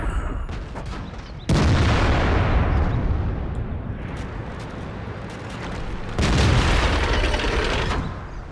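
Deep artillery booms and explosions in World of Tanks, two heavy blasts with long rumbling decays over a constant mechanical hum, loud and close, no voices.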